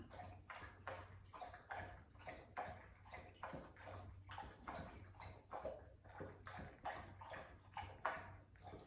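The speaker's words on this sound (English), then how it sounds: "my dog is drinking water" A dog lapping water from a bowl, a steady run of rhythmic wet slurps and splashes repeating about twice per second, close by and fairly quiet.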